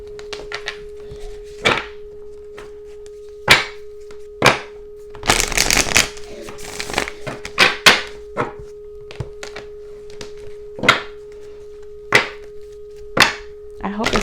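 Tarot cards being shuffled during a new moon reading, a series of brisk riffling bursts and taps spaced irregularly, close and fairly loud over a steady background hum.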